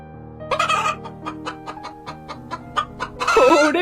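A chicken clucks in an animated folk story, a rapid run of short, evenly spaced clucks that ends in a louder, harsher squawk. There is no talk over it.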